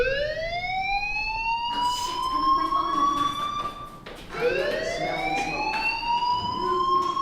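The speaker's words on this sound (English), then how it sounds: "do you hear that fire alarm?" A fire alarm in the video game Life is Strange wails loudly in rising, sweeping tones, breaking off briefly midway before starting its sweep again.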